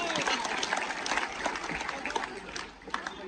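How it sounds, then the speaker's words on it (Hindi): Audience applause at a tournament prize-giving ceremony in Jaipur, a dense steady clapping wash filling the room, with a voice talking over it. "फिर से तालियां शाहिद भाई के लिए बजाया जाए भाई"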